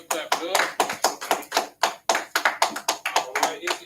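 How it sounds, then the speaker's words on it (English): Rhythmic group clapping in unison at a class session of the Israelite School of Universal Practical Knowledge in Houston, steady sharp claps repeating about every third of a second, loud and close. "Clap it up, clap it up"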